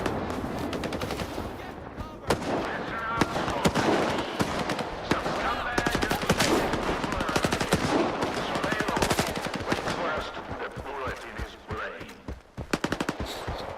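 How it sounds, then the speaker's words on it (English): Automatic weapons fire from AI enemies in S.T.A.L.K.E.R. 2: Heart of Chornobyl, sustained crackling bursts and rapid shots over about fourteen seconds, some nearby and some farther off, with game ambience and a voice talking underneath. "they're shooting over there now"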